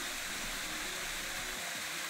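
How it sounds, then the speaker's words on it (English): Steady broadband rush of a waterfall at Croton Dam Reservoir, a continuous even wash of falling water with no talk over it. "We get to the waterfall, and guess what? It's dripping."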